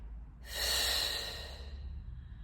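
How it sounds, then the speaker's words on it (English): A single audible breath in during a slow, controlled Pilates exercise, a soft airy inhale of about a second rising and fading against quiet room noise. "Breathing in down for 3."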